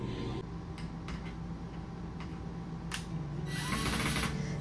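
A power drill driving screws into wood whirs in short bursts with brief pauses, close by, ending in a louder, higher-pitched run as the screw drives in.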